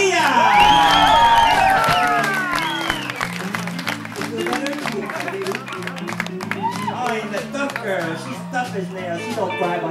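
Crowd at a Christmas show cheering, whooping and clapping loudly at first, then settling into sustained applause beneath a voice and music.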